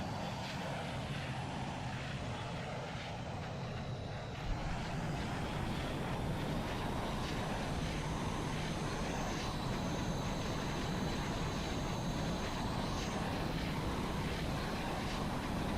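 A modded aircraft engine in the game VTOL VR roars through takeoff as a sustained, broad, steady drone, fairly loud throughout with a faint rising whine partway in.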